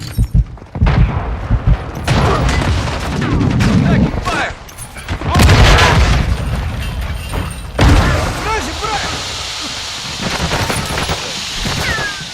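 Dense gunfire from a multiplayer shooter game, with loud bursts, booming explosions and crackling fusillades. Shouted callouts run over the shooting.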